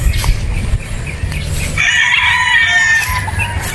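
Rooster on a game farm in Batangas crowing loudly and close, a long strained crow rising after some clucking and low chatter from other fowl.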